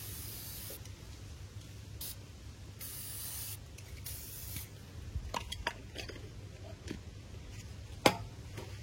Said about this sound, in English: I'm just going to take some brake cleaner and make sure I've got no greasy fingerprints on anything